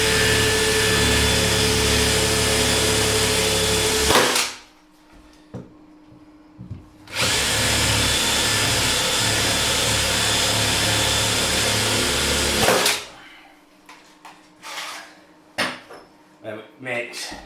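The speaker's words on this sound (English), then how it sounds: "normal pilot bit, we'll just drill through first" A power drill fitted with a pilot bit bores through material in a bathroom plumbing job, two long loud continuous whirring runs split by a brief quiet gap, followed by clunks and handling noises up close.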